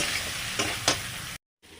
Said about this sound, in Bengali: সয়াবিনগুলো ফুলকপি আলুর সঙ্গে ভেজে নেব